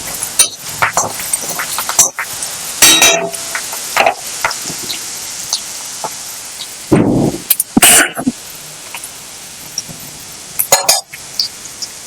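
Fried egg and chopped green chillies being stirred in a pan for egg hakka, giving scattered metallic clinks and scrapes of a utensil against the pan, with brief louder knocks between quieter stretches.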